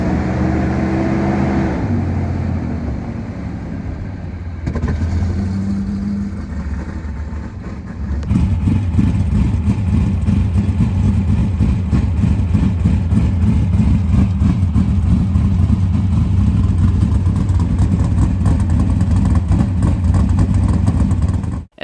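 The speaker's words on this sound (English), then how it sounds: "First, we had to fire the 410." A 410 sprint car engine fires up, first cranking and stumbling, then catching into a loud, raw, steady idle with rapid pulsing that holds for over ten seconds before cutting off abruptly.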